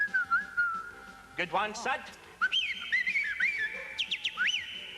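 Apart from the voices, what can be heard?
person whistling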